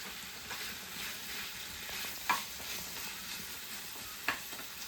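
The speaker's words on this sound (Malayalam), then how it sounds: "നമ്മൾ ഇച്ചിരി ഓയിൽ ഒഴിച്ച് കൊടുത്ത് അടപ്പ് തുറന്ന് വെച്ചൊന്ന് ഫ്രൈ ആക്കി എടുക്കും." Potatoes frying in oil in an open pan, a steady close sizzle with two brief sharp pops or stirring clicks.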